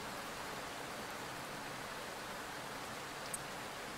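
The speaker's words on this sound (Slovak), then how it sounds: "Len trošku poprchá." Light drizzle falling outdoors as a tornado storm passes, a steady soft hiss of fine rain with no distinct drops, even and continuous throughout.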